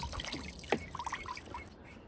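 Soft water trickling and dripping with small splashes in a Step2 Rain Showers plastic water table with spinning wheels, close by and fairly quiet, with no voices.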